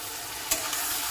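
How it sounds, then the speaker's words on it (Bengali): Pumpkin sautés with spices in a pan as a fish-head curry cooks, giving a brief, close sizzle with one quick stir or scrape. "কুমড়োটাকে কষিয়ে নেবো এই মশলার সঙ্গে"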